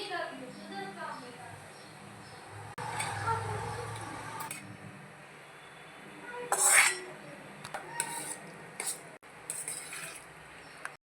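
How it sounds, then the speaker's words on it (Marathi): Yogurt marinade stirred together with other ingredients in a bowl for homemade paneer tikka masala. A spoon scrapes and clinks against the bowl with soft mixing sounds and a couple of louder knocks, while someone talks over part of it. "चांगलं मिक्स करून घ्यायचं आहे दही आणि सगळं टाकलेलं साहित्य"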